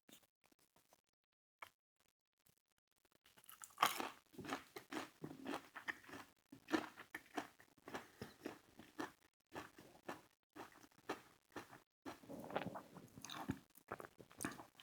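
Popeyes fried food dipped in marinara being eaten up close, with steady crunchy bites and wet chewing continuing after a quiet start, no talking.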